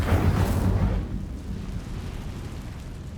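Incendio fire spell cast in Hogwarts Legacy: a loud, rumbling burst of fiery whoosh that fades after about a second into a low, lingering crackle and rumble, with no talk.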